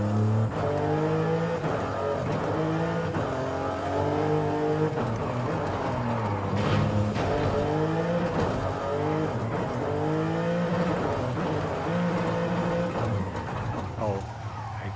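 A 2023 BMW M2 engine roars continuously in Forza Horizon 5, its pitch rising and falling through gear changes, loud and close, with occasional talk beneath.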